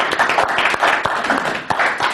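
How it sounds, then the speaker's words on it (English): Audience at a speaker training session breaking into a burst of applause, dense hand clapping close by that carries on steadily for a couple of seconds. "Go ahead and give yourselves a huge round of applause."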